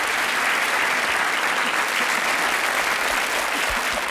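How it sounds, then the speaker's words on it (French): A French TV studio audience applauds, a dense and loud wash of clapping that holds steady for a few seconds. "on l'applaudit"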